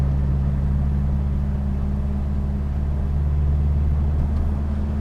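Stock Scion FR-S engine in 4th gear at about 30 mph, a steady low droning hum and cabin rumble at cruise with no change in pitch.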